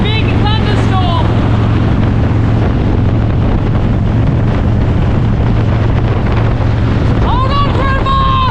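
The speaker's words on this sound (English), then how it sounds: "It's windy as hell" Strong wind roars steadily across the microphone while riding toward a thunderstorm, with brief voices cutting through near the start and end.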